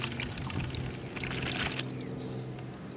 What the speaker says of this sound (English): pouring 1 cup of water into the same cooler